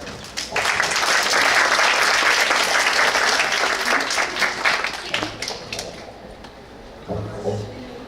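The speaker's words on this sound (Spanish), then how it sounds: "Por favor, démosle un cálido aplauso" Loud audience applause welcomes a professor to a sociology lecture hall, dense clapping that fades after several seconds into scattered claps with some murmuring.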